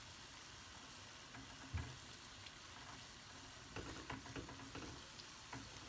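A flat dough disc for Caribbean fried dumplings sizzles quietly in hot oil on a turned-down cooker, a faint steady crackle with a few soft bumps and spatters.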